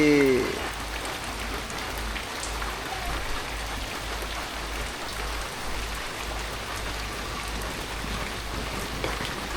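Heavy rain pours down in a village as a steady, dense hiss that fills the whole stretch, with a brief voice just at the start.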